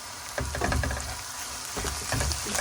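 A tablespoon of garlic ginger paste hits hot oil in a pan while cooking masala bhindi, giving a loud, close, continuous sizzle with a burst of crackling as it lands and stirring noises.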